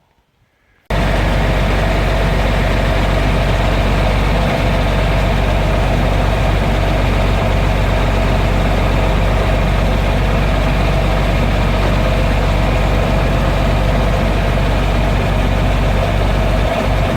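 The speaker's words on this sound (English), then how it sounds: "Now we'll see if we can't come backwards with the tractor." A John Deere 8820 tractor engine starts up abruptly and then runs at a loud, steady, low rumbling idle while the tractor backs up, with no voices heard.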